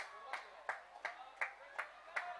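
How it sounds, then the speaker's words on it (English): Spectators and opponents clap for good fielding at an amateur park cricket league qualifier match. Six evenly spaced, moderately faint claps ring out at a steady rhythm, with no talk. "Even the opponents applaud him."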